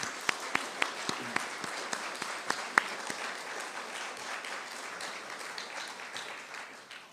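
An audience claps steadily at an academic society's 2016 prize ceremony after a tribute to a historian's work. The sharp individual claps at the start settle into an even, sustained round of applause that fades slightly toward the end.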